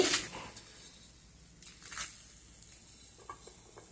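Dry red chillies, coriander seeds and cumin frying in a little oil for a gongura chutney, a faint crackling sizzle with a few soft stirring scrapes and small pops, quiet and close.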